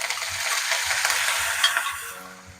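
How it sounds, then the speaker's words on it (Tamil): Pepper and cumin frying in hot oil, a continuous bright sizzle and crackle with soft stirring knocks beneath, easing off toward the end. "மிளகு சீரகம் வந்து கொஞ்சம் பொரியறது."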